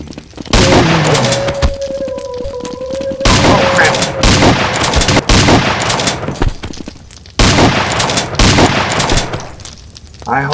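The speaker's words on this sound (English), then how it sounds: "I hope you like the shotguns." Shotgun blasts in the first-person shooter They Hunger, loud dense bursts of gunfire in a few long stretches separated by brief pauses, mixed with game sounds and a droning tone.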